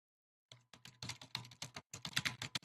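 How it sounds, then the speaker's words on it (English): Computer keyboard typing during a severe weather broadcast, a fast irregular run of close, crisp key clicks that starts after a half-second of silence and continues steadily with brief pauses. "sorry for the keyboard typing"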